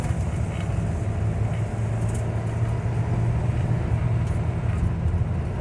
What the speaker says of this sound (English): Oh, that was a smooth shift.